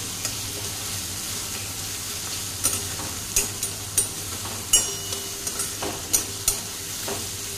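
Onion stirred and frying in a pan for egg bhurji pulao, a steady sizzle with repeated scraping taps of the spoon against the pan, close and alone.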